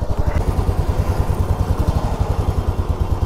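A Yamaha R15 motorcycle fitted with a modified exhaust idles close by, its engine pulsing in a fast, steady low thump throughout, with no talking.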